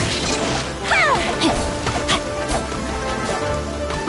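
Rain Cutter water sword skill in Genshin Impact, a burst of sharp splashing slashes and whooshing impacts layered over busy game sound and effects.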